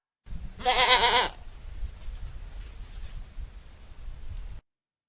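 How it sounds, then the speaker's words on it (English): A goat gives one loud, wavering bleat near the start, then only a faint, hissy background remains. "G for goat."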